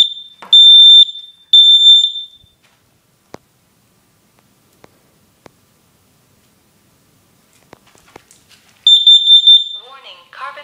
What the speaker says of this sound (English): So that's it for my NightHawk brand smoke and carbon monoxide detectors.